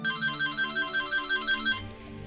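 Telephone ringing in a visual novel game, a rapid electronic ringtone pulsing in about eight regular bursts over background music before it stops.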